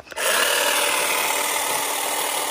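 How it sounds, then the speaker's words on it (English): A BLACK+DECKER 20V MAX cordless hedge trimmer cutting through a bush, heard as a steady, loud, close buzzing drone that starts abruptly and holds for about two seconds. "And there is that cutting action."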